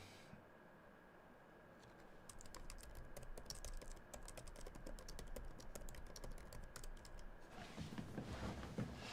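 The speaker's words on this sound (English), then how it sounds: "I'm actually typing away" Rapid keystrokes on a computer keyboard patter steadily through most of the stretch, fairly close but soft, with a low room hum underneath and no one speaking.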